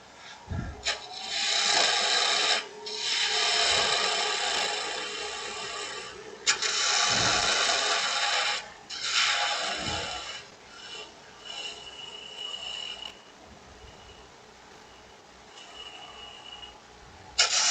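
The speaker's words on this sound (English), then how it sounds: "you can drop the handle of the spindle gouge just a little bit. There we go. And you can just bring it into that cut." A spindle gouge cuts into a long-stem wooden goblet spinning on a lathe, giving several scraping passes with short gaps, moderately loud and close, while an instructor speaks quietly over the work.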